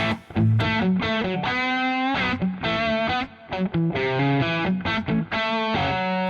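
Electric guitar played through a mildly overdriven Boss Katana Artist MkII amp on a crunch setting, crunchy chords and single notes strummed rhythmically, loud and close with no talking.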